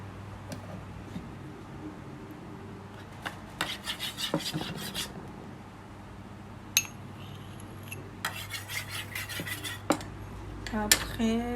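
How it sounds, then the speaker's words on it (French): A utensil scrapes softened, partly melted shea butter out of a pot in several short rasping bursts with small metallic clinks, close up over a steady low hum. "je vais renverser le beurre de karité."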